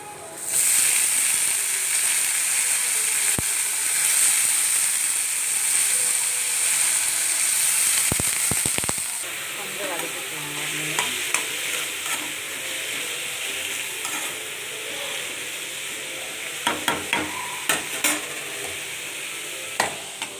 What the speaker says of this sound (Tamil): நார் எல்லாத்தையும் எடுத்துட்டு பொறிச்சிக்கலாம் வாழைத்தண்டை ஆட் பண்ணிக்கலாங்க